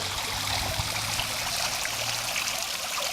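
Water trickles and drips steadily along the rim of an outdoor pool, a continuous close splashing wash with no voices.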